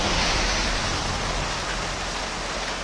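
Heavy rain pours steadily and loudly around a group of runners sheltering under a roof in De La Paz during a long run, a dense continuous hiss with no voices.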